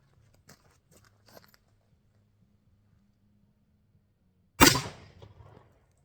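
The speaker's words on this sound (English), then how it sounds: "shoot it with that 44 mag" A single sharp, loud .44 Magnum gunshot cracks out at a target and fades with a short echo, after a few faint rustles in a quiet outdoor setting.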